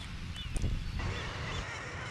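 Distant guillemot colony calling from a deep sea-cliff chasm, a faint mix of harsh croaking cries over steady wind and surf.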